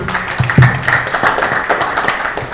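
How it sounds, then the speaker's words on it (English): Applause breaks out after a laboratory presentation at a seminar, a moderate burst of hand claps mixed with a few voices and taps in a small room, steady for a couple of seconds. "let's have a round of applause first"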